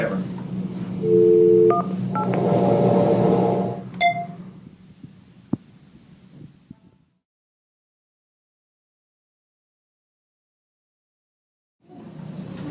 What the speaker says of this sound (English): I'm just going to dial in the folks at the demo room in St. John, if that's okay?